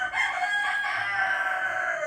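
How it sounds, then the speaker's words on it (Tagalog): A rooster crows once, drawn out and fairly close, a brief, clear cry standing alone without talk. "Ay, naku, itong mga manok na to talaga naman."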